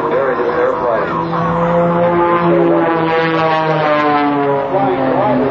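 Propeller airplanes fly in precise formation at a 2007 Rhode Island Air National Guard open house air show, a loud steady droning engine tone with shifting pitch sustained throughout.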